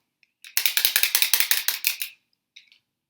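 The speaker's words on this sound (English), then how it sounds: "a clapper" A wooden clapper rattles in a quick burst of about a dozen sharp, evenly spaced clacks, loud and close, then stops.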